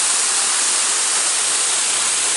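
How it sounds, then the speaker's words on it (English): The waterfall at the Canada pavilion in Epcot's World Showcase roars as a loud, steady, broad rushing wash of falling water, unbroken and close, with no voices heard over it. "And there's the waterfall,"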